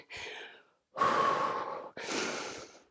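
Heavy breathing during a beginner cardio workout, three long, loud, breathy exhales and gasps close to the microphone, separated by brief pauses.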